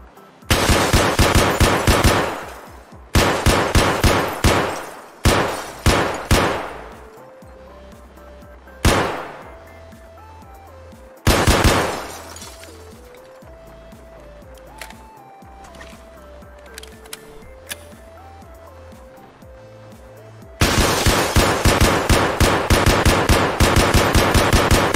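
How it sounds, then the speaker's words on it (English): Fully automatic rifle fire in Escape from Tarkov rattles out in several loud, rapid bursts, with quieter stretches of tonal background music between them and a long sustained burst at the end. "That was the guy with the fully automatic rifle."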